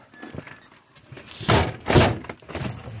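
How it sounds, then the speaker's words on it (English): A sticking door is yanked hard and forced shut, giving two heavy close thuds about half a second apart, followed by softer rattling knocks nearby. "See, I can't even close this door anymore."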